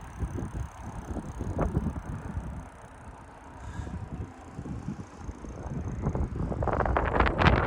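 Gusty morning wind near an air base buffeting the microphone with low rumbling bursts, rising and falling, growing stronger near the end.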